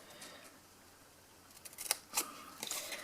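Scissors snipping through patterned paper, a few crisp close cuts that cluster near the end over a quiet background.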